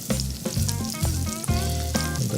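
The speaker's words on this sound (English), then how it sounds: "It's really starting to sizzle." Sliced zucchini and yellow squash seasoned with salt sizzle loudly in a hot pan, a steady close crackle with bursts of stirring.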